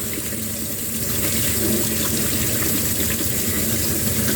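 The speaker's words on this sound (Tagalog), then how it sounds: "Hugasan natin yung luya." Ginger root being rinsed under a running kitchen tap, a steady close splashing stream of water hitting the sink continuously throughout.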